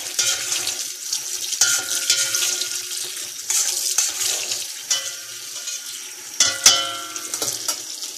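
Running tap water splashing over food in a sink, a steady hiss broken by clunks and shifting splashes, close by with no talking.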